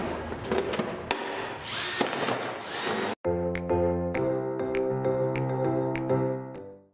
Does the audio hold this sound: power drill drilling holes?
yes